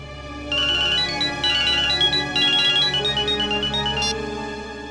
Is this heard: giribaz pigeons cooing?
no